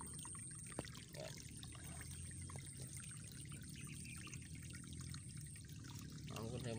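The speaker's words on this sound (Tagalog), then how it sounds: "Ilinisan natin yung daanan ng tubig mga farm para makapasok ang tubig." Water flows steadily through a cleared channel into an azolla farm in Bohol, a constant soft trickling stream heard close and alone.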